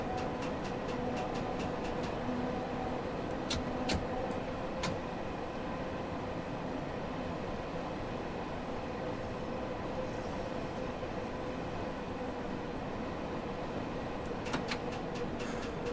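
A London Underground train in Train Sim World 2 pulls into Piccadilly Circus, a steady rumbling run with sharp clicks and squeals from the wheels that carries on through the whole stretch with no voices.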